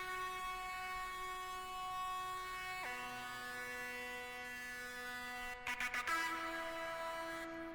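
Sustained lead synth line drenched in reverb and distortion, holding long tones that step down to follow a bassline, with a few brief glitchy stutters near the end, alone and steady.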